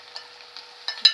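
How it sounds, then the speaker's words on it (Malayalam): Ginger and garlic stirred in a hot pan for beef ularthu, a soft steady sizzle broken by a few brief scraping strokes, the last one louder. "വെളുത്തുള്ളി നല്ലപോലെ ഇളക്കി"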